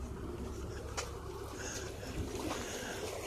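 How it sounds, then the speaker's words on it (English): A canal boat passes by on the water at Ellesmere, a steady low engine rumble and water wash holding evenly throughout, with faint breeze and no clear talk. "The boat going on by."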